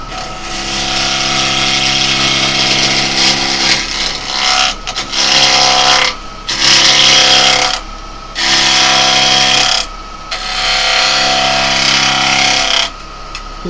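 A wood lathe spins steadily as a turning tool cuts away the edge of a workpiece, loud and near, with the cutting noise breaking off in short pauses a few times.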